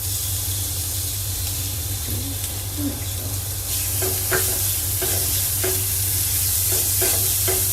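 Garlic, ginger and chili paste fry with curry leaves in a loud, steady hiss and sizzle, and a series of quick stirring scrapes comes near the end.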